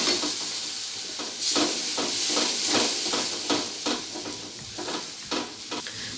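Spiced masala for a rui fish and tomato curry sizzling loudly in a pan after a splash of water, with bursts of hissing steam and repeated stirring scrapes, close and with no talking.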